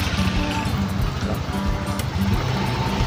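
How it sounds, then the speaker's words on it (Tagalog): A motorcycle being ridden on a road toward Bagasbas, with a steady, loud engine drone and wind rush held close throughout a short stretch, no voices heard. "tayo agad ang magdadrive pabagasbas nitong motor ni Biancy."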